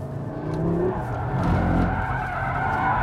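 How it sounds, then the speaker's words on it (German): A 2022 Audi RS3 (400 hp, 500 Nm) drifts in circles around pylons on a race track, its tires skidding and squealing continuously under a loud, steady engine drone, close and without talk. "auch tatsächlich richtig schön gezielt im Kreis um die Pylonen driften."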